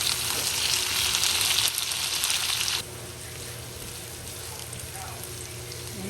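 Eggplant and tofu frying for bistek give a dense, close hiss of oil that holds loud, steps down slightly, then drops to a quieter, steady sizzle for the rest.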